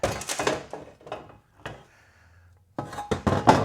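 Metal bolts and washers from a TH400 transmission pan clink and rattle as they are handled in a workshop, a few sharp clustered bursts separated by a quiet pause.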